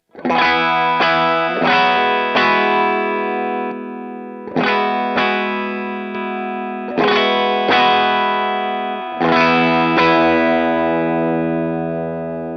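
An electric guitar plays ringing chords through a Vahlbruch Kaluna II high-voltage tube drive pedal set to low gain, a mildly overdriven tone, several strummed chords with sustained decay between them, close and clear.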